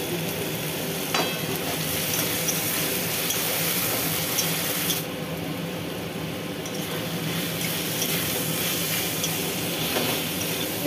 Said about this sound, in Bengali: মাছগুলো ভাজা হয়ে গেছে, এবার এগুলো তুলে নেব